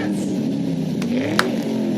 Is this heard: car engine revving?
yes